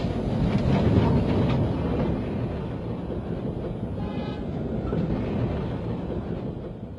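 A turn-of-the-century period train, engine and coaches, rumbles along steadily with a low, rolling roar and faint rhythmic clatter, fairly close and loud throughout.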